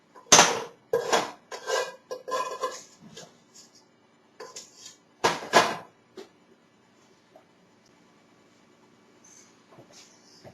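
A slotted spoon scoops fried bacon out of a greasy pan, giving a run of close, sharp metallic clinks and scrapes in uneven bursts, then fading to near quiet with a few faint taps.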